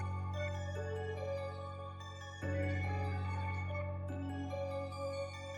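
Dark trap beat built in FL Studio: a main melody over deep sustained bass notes and a lead line, with a small guitar accent, a fuller layer entering halfway through, steady and dense, no talking.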